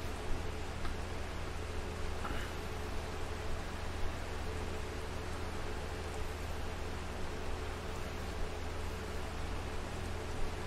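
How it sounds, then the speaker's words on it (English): Rain in the farming video game Farming Simulator 22, a soft, continuous hiss of falling rain with a low rumble beneath, steady and faint throughout with no voices. "And it is raining."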